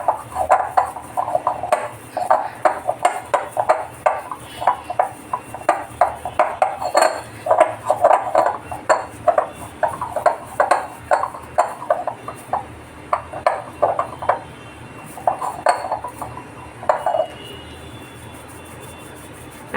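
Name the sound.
kneading semolina puri dough in a metal vessel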